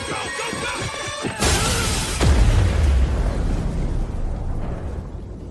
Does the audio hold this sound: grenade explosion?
yes